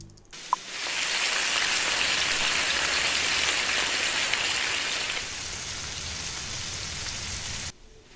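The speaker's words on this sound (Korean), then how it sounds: "이 소리는 실제 빗소리를 녹음한 것이 아닙니다. 베이컨 굽는 소리를 녹음한 것이죠." Frying bacon makes a steady crackling sizzle like heavy rainfall on a surface, starting abruptly, holding dense and even, then easing slightly before cutting off.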